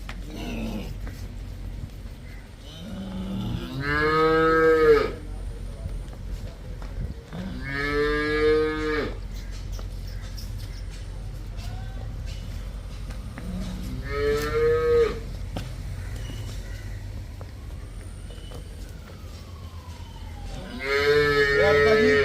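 Several cows moo loudly on a farm where cattle are offered for sale, with four long calls spaced a few seconds apart over a steady low rumble of background noise.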